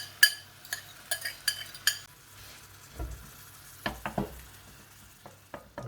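Beaten eggs hit hot olive oil in a pan for a Swiss chard omelette, giving a steady soft sizzle broken by sharp metallic clinks and scrapes of a utensil stirring against the pan, with no talking.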